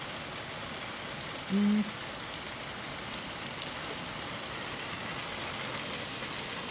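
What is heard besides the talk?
heavy rain falling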